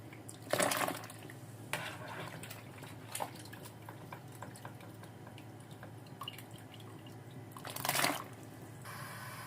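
Lemon peel drops into a pot of water that is nearly boiling, making a couple of wet splashes and plops amid soft bubbling and clinking, with quieter handling sounds in between.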